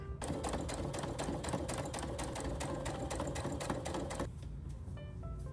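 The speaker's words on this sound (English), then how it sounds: "You're gonna sew about 1/4 inch from the edge of your fabric." A sewing machine runs a fast, even stitch through fabric about a quarter inch from the edge while making a mini tote bag. The rapid needle clatter holds steady and close for about four seconds, then stops abruptly, leaving quiet room tone.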